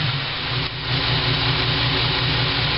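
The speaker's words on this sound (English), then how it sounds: "so far it's running, so that must mean that distributor is working correctly" A 1993 Chevrolet S10 Blazer engine idles steadily and loudly after an MSD distributor install, holding an even, throbbing rumble with a slight dip partway through and no talking.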